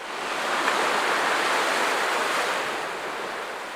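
Sea surge on the Ayetoro coast, a broad continuous wash of breaking waves swelling and easing, loud and alone with wind blending in.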